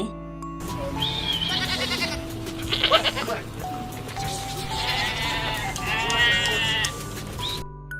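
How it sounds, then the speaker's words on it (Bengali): Goat kids bleating in a high, wavering chorus, several overlapping cries rising and falling close by over a continuous musical backing with a sung voice. "ছয় ছাগল ছানা লাফিয়ে চলে"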